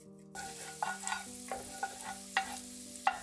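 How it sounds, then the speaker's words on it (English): Minced garlic and crushed red pepper flakes sizzle in olive oil in a stock pot over medium-low heat, a soft steady frying hiss with scattered stirring clinks, heard close under a low sustained background tone. "to a stock pot over medium-low heat, we'll add some olive oil and some minced garlic and crushed red pepper flakes."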